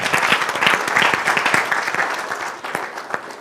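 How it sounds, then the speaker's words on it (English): An audience giving a big round of applause at an event, dense steady clapping from many hands that stays full and close before easing slightly toward the end. "Let's give them a big hand of applause again."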